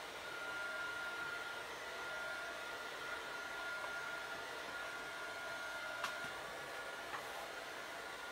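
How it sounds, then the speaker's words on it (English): A heat gun blows hot air steadily over a handmade frog-scene card, a constant broadband whoosh at low level with no pauses and no talking. "So I'm going to just give it a quick blast with my heat gun."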